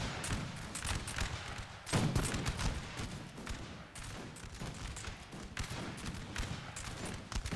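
Guards infantry firing musket volleys in the Napoleon Total War battle game, a ragged crackle of many shots with one heavier burst, followed by scattered distant pops and rumbling battle noise.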